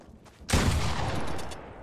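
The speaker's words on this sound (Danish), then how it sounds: "Han fik et rigtig godt skud på mig." A sudden loud burst of Fortnite gunfire cuts in after a quiet moment, a dense rattling volley that sustains and slowly tapers off.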